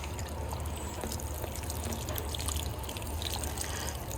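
Water poured over a summer flower container plant, trickling and splashing across dead foliage and running off, a quiet steady patter of drips close by with no speech.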